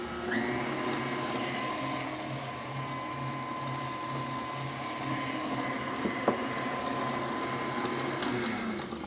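A steady electric mixer whirs continuously as vanilla is mixed into cookie dough, a loud sustained motor hum running evenly throughout with one brief clink partway through.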